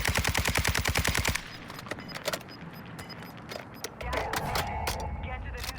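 Rapid automatic gunfire from a machine gun in the video game Warzone 2, a loud, fast burst of evenly spaced shots lasting over a second, then quieter game sounds and scattered clicks with talk.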